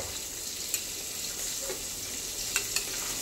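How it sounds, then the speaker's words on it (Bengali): Chicken being stir-fried for biryani in a pot after the lid comes off, a steady soft sizzle with a few faint scrapes of a spoon, no talk. "আমি ঢাকনা সরিয়ে দেখছি আমার চিকেনটা কতটা কষানো হলো"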